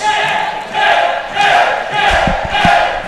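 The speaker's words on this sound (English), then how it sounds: "And the crowd already jacked up for this one." A wrestling crowd at a Sacrifice Pro Wrestling show chants and cheers in loud, rhythmic surges that rise and fall roughly every half second, with a few sharp claps or stomps near the end.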